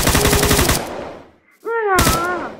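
Gunfire from a gun mod in Minecraft version 1.10.2, rapid automatic bursts loud and close at the start, a short lull, then firing resumes alongside a rising synthetic whine; a voice speaks briefly.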